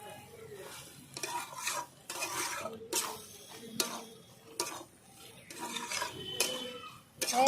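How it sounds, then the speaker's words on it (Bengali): Repeated stirring and scraping of a spoon in a pan of vegetable curry made with white brinjal, beans, potato and cauliflower stalks, with chopped coriander being mixed in; steady, close rhythmic strokes over a faint sizzle. "দিয়ে দিচ্ছি ধনে পাতা কুচি ভালো করে মিলিয়ে নিচ্ছি"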